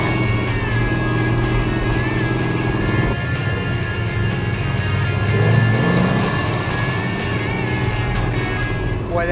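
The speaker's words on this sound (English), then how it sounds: "390 horsepower right there, 1350 CFM carburetors opening up." A Dodge Super Bee with a 440 Six Pack engine and 1350 CFM carburetors accelerates on a road test, a loud, continuous, deep engine roar with rising revs and road noise throughout.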